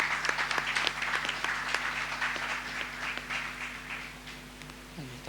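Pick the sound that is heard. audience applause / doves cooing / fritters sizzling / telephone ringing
audience applause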